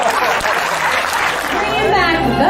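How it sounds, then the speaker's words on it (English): Audience at a live comedy-style show with a mentalist act applauds continuously, a dense steady wash of clapping mixed with chatter and some laughter throughout. "give her some applause."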